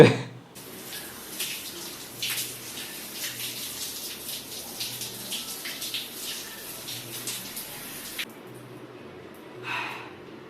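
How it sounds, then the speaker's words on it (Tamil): Water runs steadily from a tap or shower while hair is rinsed after a keratin straightening mask, a continuous splashing stream lasting about eight seconds before it cuts off, followed by a brief breathy sound near the end. "ஸோ ஹேரையும் இப்போ வாஷ் பண்ணி முடிச்சாச்சு"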